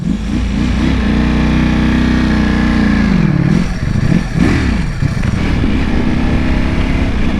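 Ducati Panigale V4 SP motorcycle engine running loud and close, revving up and down steadily with pitch swings as gears shift through a smooth dry-clutch gearbox.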